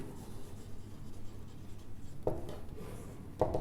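Pen moving over paper while a maths solution is written out, a continuous close scratching with two sharper strokes toward the end, over a low background hum.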